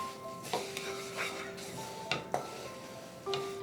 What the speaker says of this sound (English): Add the sesame seeds to this immediately and mix it very well.